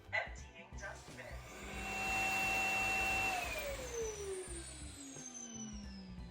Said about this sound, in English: This sucks the dust out of the vacuum and only needs to be emptied itself every couple of months